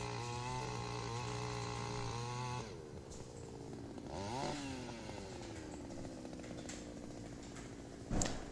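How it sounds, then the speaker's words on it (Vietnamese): A petrol earth auger with a 68cc engine, pushed on a wheeled frame, drills planting holes in hard hillside soil full of coffee roots. It gives a loud, steady droning buzz that shifts pitch midway, with a sharp knock at the end. "máy vẫn có thể khoan được một cách rất là dễ dàng với động cơ 68cc"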